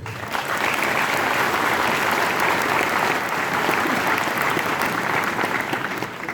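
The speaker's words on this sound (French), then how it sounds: "je crois qu'il faut les applaudir aussi" A hall audience at a town's New Year greetings ceremony in Mèze applauds the territorial brigade with dense, steady, loud clapping that holds evenly throughout before easing slightly at the very end.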